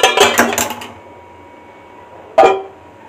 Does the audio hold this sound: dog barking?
no